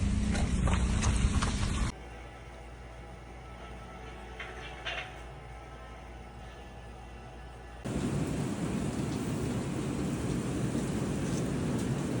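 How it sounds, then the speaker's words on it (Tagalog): Steady rain hiss with a low rumble, quieter in the middle stretch and then loud and continuous again, no voices. "Umuulan pa rin."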